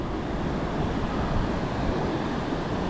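Ocean waves break on Rockaway Beach, Oregon, making a continuous loud roar of surf mixed with wind rumble close to the microphone.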